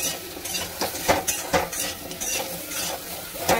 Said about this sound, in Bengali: এই যে দেখো নাড়াচ্ছি আমি